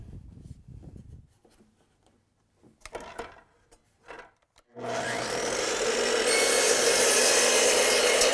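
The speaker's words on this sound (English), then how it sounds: "So I have the miter saw turned to 45 degrees, and I'll make my first cut." A miter saw set to 45 degrees cuts through wood for a fireplace bookcase, starting after a few soft clicks and taps, then a loud sustained motor whine and cutting roar that continues to the end.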